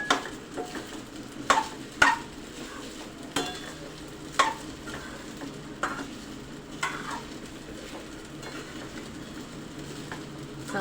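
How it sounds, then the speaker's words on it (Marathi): Sago pearls are sautéed with green chillies in oil or ghee in a pan, a spatula scraping and stirring in repeated sharp strokes over a soft continuous sizzle, close up. "साबुदाणा चांगलं परतवून घ्यायचं."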